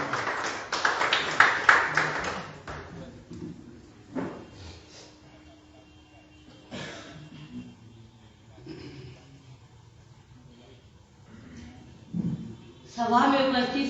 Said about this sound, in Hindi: जोरदार तालियों से स्वागत किया जाए श्रीमती अन्नू कुमारी